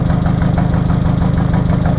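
A 2003 Honda Civic 1.7L engine with a restricted exhaust runs loud and steady near the microphone, a rumbling idle with a low pulsing throb and no clear rise of a rev.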